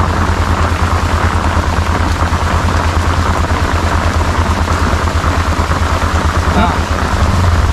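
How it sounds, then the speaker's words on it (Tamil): Heavy rain pours steadily during an auto rickshaw ride from Ponmudi hill to Kovalam, a dense, loud, unbroken hiss with the vehicle's low engine drone running beneath it throughout. "ஹெவி ரெயின் தான்."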